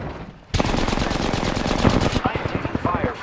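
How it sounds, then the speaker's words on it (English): Rapid automatic gunfire in the Apex Legends video game, a loud sustained burst of closely spaced shots that cuts in abruptly and keeps rattling before thinning into a few separate shots, with faint voice underneath. "I am taking fire, friends. I am taking fire."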